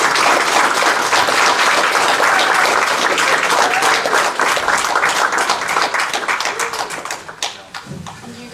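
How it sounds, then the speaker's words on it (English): Audience applause at the close of a Q&A at a Norwegian retro game fair, loud, dense clapping from a crowd that thins out toward the end with a few scattered claps. "Give them a warm applause."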